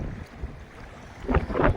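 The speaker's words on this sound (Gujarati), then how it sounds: "હવે ઓચિંતાની પવનની છીકી આવી, પવન નીકળ્યો ફૂલ બરોબર ઝાડ આગળ પહોંચ્યા." A sudden gust of wind sweeps across the water during a fishing trip by boat as rain approaches, a low rumbling buffet that swells into louder bursts near the end.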